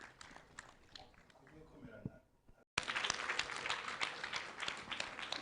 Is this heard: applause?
yes